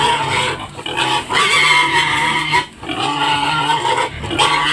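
A pregnant sow on a Philippine farm grunts noisily and keeps at it before feeding, a close and loud rhythmic run of grunts and oinks broken by short pauses.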